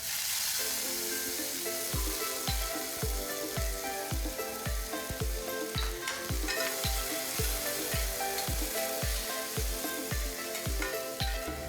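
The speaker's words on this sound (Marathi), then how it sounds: "तेल तापलं आहे आपलं, जिरं घालूया, मिरची घालूया," Cumin seeds and chillies crackling in hot oil in a heated pan, a loud, dense sizzle with rapid popping and a regular run of low thumps throughout, close up and with no voices.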